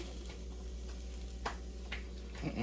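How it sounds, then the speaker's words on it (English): Cabbage and shredded carrots sauteing in a pan, a steady close sizzle with a few soft stirring scrapes and clicks over a low kitchen hum. "The cabbage and the shredded carrots. We're gonna saute them just a little, season them up"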